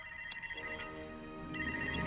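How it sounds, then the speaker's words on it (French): Mobile phone ringtone chirping in a school, a soft repeating electronic tone that grows slightly louder toward the end, with no talk. "des portables qui sonnent dans l'école"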